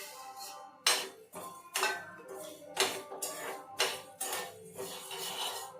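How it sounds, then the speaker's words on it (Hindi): Coriander seeds being dry-roasted in a pan for a home-made offering, with sharp metallic clinks and scrapes of a spoon against the pan coming in irregular, close, fairly quiet strokes. "पैन रख दिया है मैंने, और उसमें मैं धनिया को फ्राई कह रही, थोड़ा सा रोस्ट कर लूँगी"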